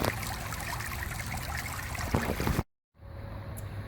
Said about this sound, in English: Listen to the sound the water makes as it goes in and around the rocks